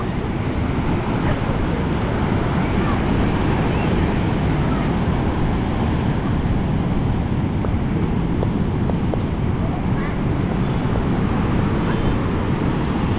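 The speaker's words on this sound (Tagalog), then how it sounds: "Oh, laki ng alon mo." Big ocean waves surging and crashing on the shore at Baler, a steady loud roar of surf with wind buffeting the microphone throughout and no clear breaks between swells.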